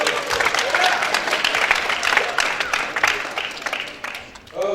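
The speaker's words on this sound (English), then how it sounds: "Give yourselves a round of applause." Students in an upper school chapel applaud together, a full burst of clapping mixed with crowd voices that fades out before a single voice speaks.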